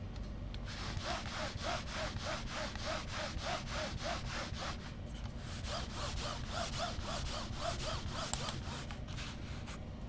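A gaming mouse slides back and forth across a Spyre Loque gaming mousepad in a close, steady rhythmic rasp, repeated strokes without any talk.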